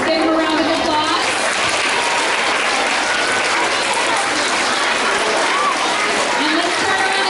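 A school crowd at an awards assembly applauds students from a Lego League team, with loud, dense, continuous clapping that runs throughout and a few voices and cheers mixed in.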